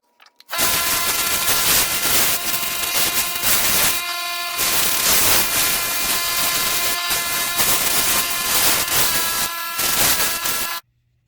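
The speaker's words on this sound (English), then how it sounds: "Now we're going down to sanding." Loud, harsh grinding of a power sander on a purpleheart and cedar hollow wood form, running steadily with a few brief pauses where it cuts out.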